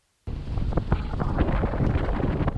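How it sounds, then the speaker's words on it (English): Strong 35-knot wind gust hitting a sailboat at sea, a sudden onset of loud, dense roaring buffeting against the microphone that holds steady, with no talk. "an unexpected 35-knot gust, and our slightly ripped foresail shreds completely"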